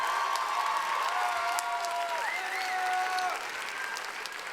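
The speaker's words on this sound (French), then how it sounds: "On peut les applaudir bien fort." Audience applause at a Geneva civic promotion ceremony for three female contest winners: steady, dense clapping throughout, with sustained melodic tones, likely music, gliding above it and fading slightly at the end.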